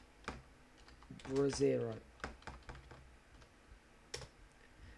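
Keystrokes on a computer keyboard while a Linux terminal command is entered, a quick irregular burst of close clicks and taps mixed with brief spoken words.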